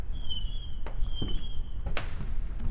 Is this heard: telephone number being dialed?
no